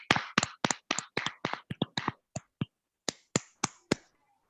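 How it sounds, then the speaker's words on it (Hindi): A church congregation clapping to welcome a pastor, a run of sharp distinct claps close up, quick at first and then thinning to a few spaced claps before stopping. "जोरदार तालियों की सूरत में उन्हें वेलकम करेंगे"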